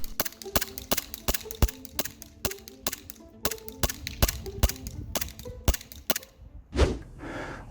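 An Elite Force Glock 17 Gen 3 airsoft pistol fires BBs in a steady string of about fifteen sharp, close snapping shots at a quick, even rhythm, followed by a brief rushing noise at the end.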